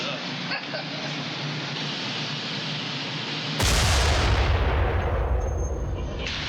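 A heavy gun fires outdoors, a sudden loud blast cutting through steady background noise and leaving a long booming decay.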